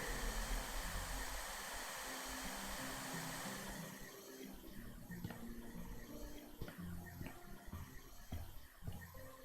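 Vacuuming in the video game House Flipper 2, a loud, steady broadband whoosh of the cleaner running continuously, easing slightly partway through with faint clicks and bumps underneath.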